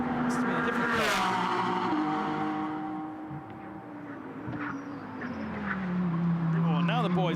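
GT race cars in an SRO GT Cup pre-qualifying session in Beijing, engines droning and shifting pitch as they pass at a distance, heard under continuous commentary talk.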